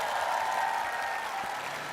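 A seated audience at a talk concert gives a short burst of steady clapping that fills the room evenly for a couple of seconds.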